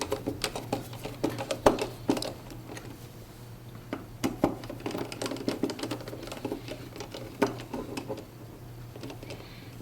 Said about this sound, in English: as long as you're screwing them down with their holding screws,